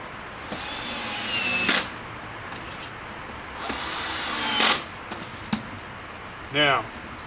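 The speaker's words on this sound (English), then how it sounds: "I'm going to put it together with this driver" A power driver runs screws into a 40-inch wooden table in two sustained whirring bursts, each ending with a sharp tightening squeal, plus a shorter final burst; someone talks briefly in between.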